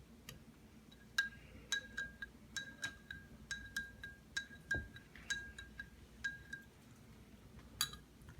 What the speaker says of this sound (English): And now you just need to stir it a few times.